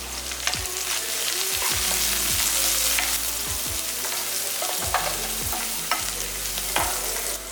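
Vegetable kurma with cauliflower sizzling loudly in a pan as mint leaves are added and stirred, constant frying hiss broken by repeated spoon scrapes and knocks at an uneven pace, close and without talking.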